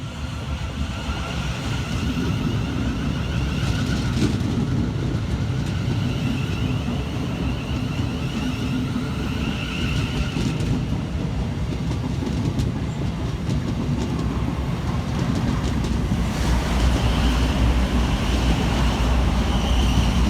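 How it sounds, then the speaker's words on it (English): A Class 700 Thameslink electric train rumbles steadily through Purley station in South London, a continuous loud low roar with faint rhythmic wheel clatter and rail hiss lasting throughout, with no voices. "Trundling through the station for Southern and Thameslink is 700-138, working 9 Tango 37 from Bedford through to Brighton"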